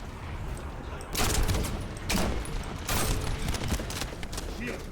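Rifle gunfire in the shooter game The First Descendant, a few loud cracking shots spaced about a second apart over a busy, noisy background.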